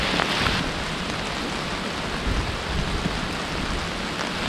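Steady heavy rain and wind during a mountain storm fill the air with a constant dense hiss, close and fairly loud, with no voices.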